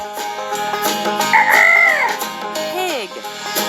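A chicken in a children's farm-animal game gives a few loud, close squawking clucks with bending pitch, brief calls packed into a few seconds.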